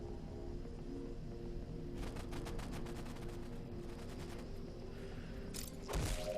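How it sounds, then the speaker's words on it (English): Rapid bursts of gunfire crackle midway through a steady game-soundtrack hum in Halo: Combat Evolved Anniversary, in the Library level on Legendary difficulty, followed near the end by a sharp, loud grenade blast. "I'm going to toss a grenade right there just to make sure there aren't any loose grenades laying around"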